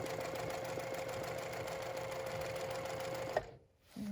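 A Juki TL-2010Q sewing machine stitches along a quilting ruler with a fast, steady mechanical chatter at close range, then stops abruptly near the end.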